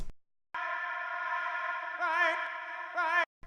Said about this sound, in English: It's the vocal like run through the reverb, and it's like the tail of the vowels.